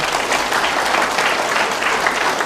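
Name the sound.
audience applause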